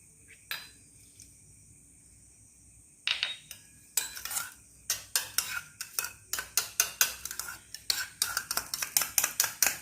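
Cornflour being stirred into marinated paneer in a bowl: a quiet start, then a run of repeated clinking spoon strokes against the dish, picking up pace in the second half, close and fairly loud.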